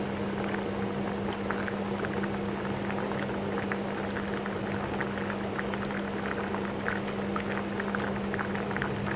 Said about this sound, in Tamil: நல்லா கொதிக்க ஆரம்பிக்குது.